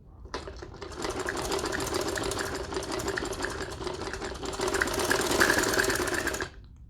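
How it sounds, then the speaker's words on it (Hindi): A sewing machine stitches kurti fabric in one continuous run of fast, even mechanical chatter lasting about six seconds, close and steady, starting and stopping cleanly with no speech. "इस तरह से स्टिचिंग कर लें।"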